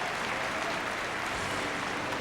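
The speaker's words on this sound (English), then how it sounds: "As the rest of the North American team applaud a 7-2 lead." The North American curling team at the 2002 Continental Cup of Curling claps in a steady, even wash of applause.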